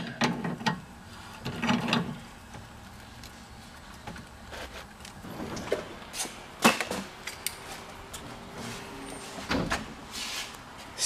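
A wrench tightens the inner tie rods on a BMW E90, heard as intermittent metallic clicks, clanks and ratcheting scrapes with uneven pauses between them, close and moderately loud.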